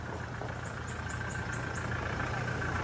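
A monster truck nicknamed Blackie idles steadily in the foreground with a low, constant engine rumble, while brief chirping bird calls sound faintly above it.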